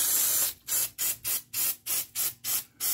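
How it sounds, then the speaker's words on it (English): Aerosol can of CRC cleaner sprayed onto the valve springs of a 1995 Jeep Wrangler 2.5L four-cylinder engine, as about eight short, loud hissing bursts in a steady rhythm, close by with no talk. "I'm going to spray it again."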